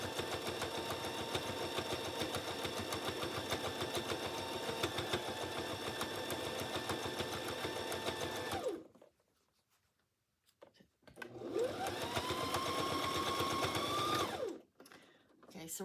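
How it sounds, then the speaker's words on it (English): A sewing machine stitches binding onto a quilt, a steady close whirring run of fast needle strokes that stops briefly, then resumes with a rising motor whine before halting again. "Okay, so I'm going to back stitch at the top, and then sewing a 1/4 of an inch in."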